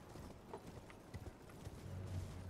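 A mounted rider in Elden Ring gives chase, with faint, distant horse hooves clip-clopping irregularly over a low ambient rumble.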